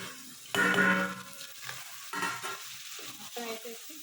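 Carrots, potatoes and tomatoes fry and get stirred in a pan for veg pulao, with close bursts of sizzling and scraping strokes in an uneven rhythm, alone without talk.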